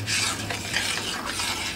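A spoon stirs boiling pineapple and ginger jam just after pectin is added, giving a soft scraping, bubbling sound with faint sizzle, close and fairly quiet, with no talking.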